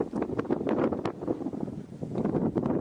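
Wind gusting across a lake at sunset, a steady low rushing roar buffeting the microphone with repeated sharp gust bursts throughout.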